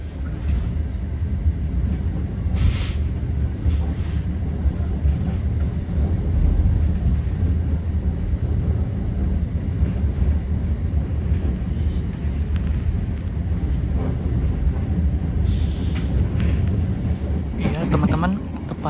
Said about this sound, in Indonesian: rangkaian kereta api Tegal Bahari ini diberangkatkan dari stasiun Pasar Senen